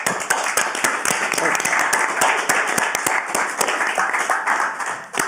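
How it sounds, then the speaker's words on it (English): A round of applause at a city council planning committee meeting, many hands clapping steadily and densely throughout, fairly close and sustained before tapering at the end. "And I think a round of applause, then we can all be off."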